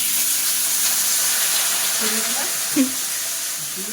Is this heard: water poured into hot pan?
yes